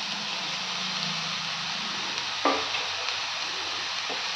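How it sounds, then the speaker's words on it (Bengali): Eggplant and betho shak greens fry in a pan with a steady, close sizzle, broken by a single stirring scrape about halfway through and a softer one near the end, with no voices. "এবার বেগুন দিয়ে শাকের সাথে ভালো করে নেড়ে চেড়ে আবার মিশিয়ে আবার একটু ভেজে নেব।"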